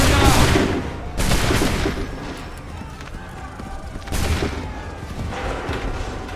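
Musket volleys in Assassin's Creed 3 Remastered, several loud crackling bursts of massed gunfire in a battle, with a big volley at the start, another around one second and one near four seconds, with shouted voices in the mix.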